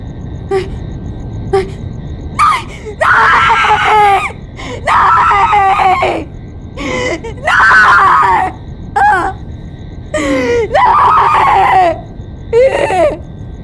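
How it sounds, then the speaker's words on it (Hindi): A woman screams repeatedly in a crime drama scene, giving a series of loud, anguished wails of about a second each with short gaps between them. A few sharp cries come before them. "नूरी की चीखें सुनते ही मैं दौड़ा चला आया।"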